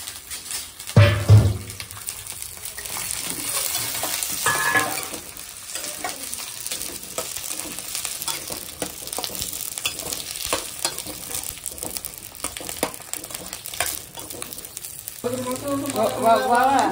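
Food fries in a pan while gongura pachadi and prawns are being cooked, sizzling steadily and loudly from start to finish. A spoon clatters now and then, and a voice briefly speaks near the end.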